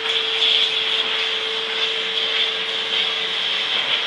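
A vacuum cleaner runs steadily and loudly up close with a constant whine throughout, while dogs are nearby; no talking is heard.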